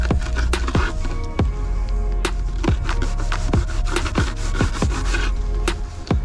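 A knife saws through gizzard shad bait fish on a cutting surface, making rapid rasping strokes with sharp repeated clicks close by, trimming off the tail section.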